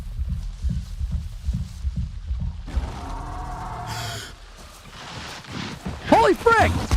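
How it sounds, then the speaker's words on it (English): In Avatar Frontiers of Pandora, a deep, rhythmic in-game heartbeat thuds steadily for a few seconds, then gives way to rushing noise and a gasp, with someone talking over parts of it. "I don't know why the heartbeat thing's happening."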